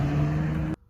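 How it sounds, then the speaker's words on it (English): A black Charger's engine roars close by for under a second as the car speeds off, then cuts abruptly to near silence. "said black Charger immediately just speeds off"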